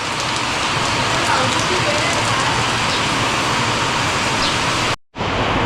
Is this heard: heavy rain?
yes